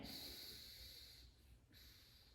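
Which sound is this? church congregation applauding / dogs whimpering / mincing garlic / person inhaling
person inhaling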